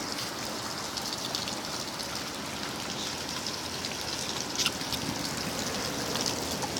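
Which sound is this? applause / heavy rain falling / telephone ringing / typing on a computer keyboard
heavy rain falling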